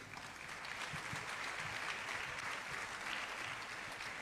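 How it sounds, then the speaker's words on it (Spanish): A church congregation claps together in sustained, dense applause that stays even throughout, heard from a moderate distance. "Vamos a darle un aplauso al Rey"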